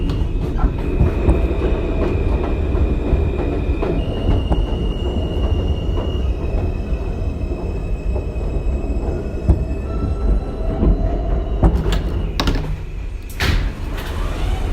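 A Queens-bound M local subway train in New York rumbles steadily with high wheel squeal and a sliding door near the end, loud and close with no talk.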